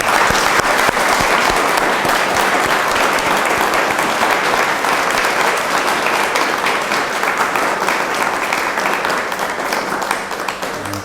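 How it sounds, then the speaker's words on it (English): Loud, dense applause from a large audience honouring the cooks at an evening spiritual gathering, steady clapping throughout that eases off slightly toward the end. "give an applause to them"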